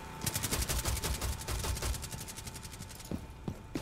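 Rapid automatic gunfire in the zombie mode of Rainbow Six Siege Outbreak, shooting through paneling: a fast, loud burst of around two dozen rounds, followed by a few slower, spaced single shots.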